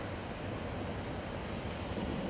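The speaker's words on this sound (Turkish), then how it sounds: "Uçak yanaşmaya başladı şu an." A fixed-wing airplane approaching to land at an Istanbul airport roars steadily, a loud continuous broadband engine rumble with some wind noise, constant throughout and without speech.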